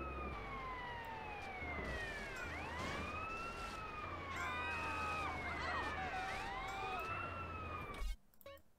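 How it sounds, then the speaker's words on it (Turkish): Several emergency vehicle sirens wail and overlap in a fire mission in GTA: San Andreas, their pitches sweeping up and down over a steady engine rumble. The loud sirens cut off abruptly near the end. "siren sesi duyunca lütfen yolda durmayın."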